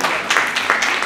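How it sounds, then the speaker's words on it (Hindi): A brief burst of audience applause welcoming a Mufti to speak at a book launch on mental health, moderately loud with a few swelling pulses of clapping. "मुफ्ती नईम साहब का जोरदार तालियों से इस्तकबाल कीजिए"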